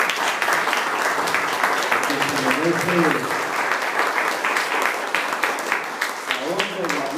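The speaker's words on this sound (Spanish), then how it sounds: "denle un buen aplauso a Jesucristo" A church congregation standing to applaud, their clapping spread evenly and steady throughout, with a voice speaking over the applause.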